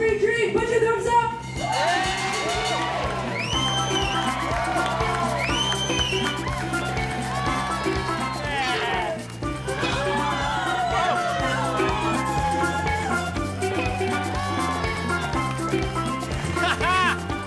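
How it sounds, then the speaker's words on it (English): Expectant crowd at a bar show on a cruise ship, whooping and shouting in loud bursts over continuous chatter and background music, close and lively throughout. "With an expectant crowd gathered, there's no turning back now."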